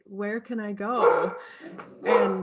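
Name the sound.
dogs barking in the background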